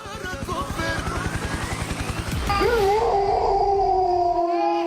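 A corgi puppy yips and whimpers in quick pulses, then rises into a long, wavering, drawn-out howl, close and fairly loud.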